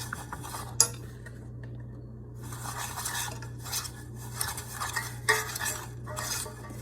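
A spoon scrapes and clinks around a bowl while stirring a gluten-free garlic bread dough mixture, with close irregular knocks and scraping strokes and one sharp clink near the start.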